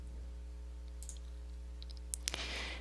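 A few sharp computer mouse clicks land near the end while a file is selected and opened during a Microsoft Word mail merge, quiet and close over a steady low hum.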